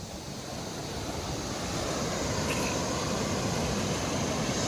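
Ocean surf rolls in at Manuel Antonio beach in Costa Rica, a steady broad wash of breaking waves mixed with wind rumble on the microphone, loud and continuous throughout with no talking.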